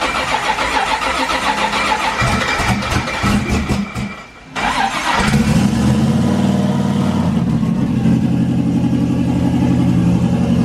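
A silver Corvette race car's engine roars loudly up close, cuts out briefly, then returns as a steady, heavy rumble.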